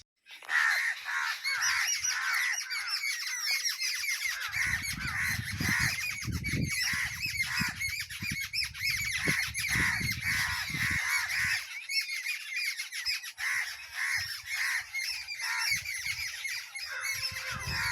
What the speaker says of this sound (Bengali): সুন্দরবনের পাখির চিৎকার শুনতে পাচ্ছেন তো বন্ধুরা